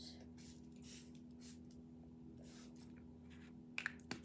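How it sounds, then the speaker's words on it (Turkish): Hair spray hisses from an aerosol can in several short bursts, close by and fairly soft, with small clicks of handling near the end. "Sadece bir sprey sıkacağım."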